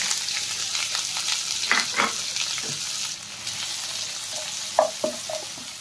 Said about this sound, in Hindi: अब इसके अंदर में प्याज, हरी मिर्च,